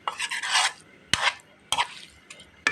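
Small fish are mixed with spices by hand, giving four or five wet, squelching rubs and scrapes of moderate loudness, close by, with short pauses between them.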